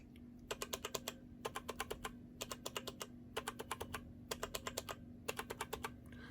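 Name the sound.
typing on Corsair K95 keyboard keycaps with O-rings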